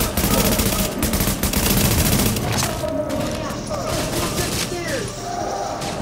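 Gunfight in The Division, with loud rapid bursts of automatic fire crackling close, fading a little partway through to scattered shots and booms, while voices talk over the action.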